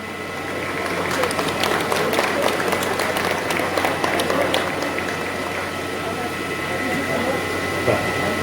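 Sustained, thick crowd applause at the Lalpari Gaurav Ratna award ceremony in Nashik for MSRTC workers, steady throughout with occasional sharper claps rising out of the hall's roar.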